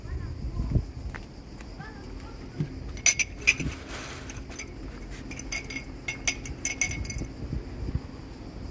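Glasses clink and tap together in a home kitchen, several bright short chinks bunched in the middle, under steady conversation in Polish.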